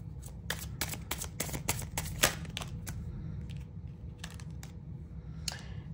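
Tarot cards shuffled by hand close by, a quick run of crisp riffling snaps followed by a few sparser flicks, quiet over a low background hum.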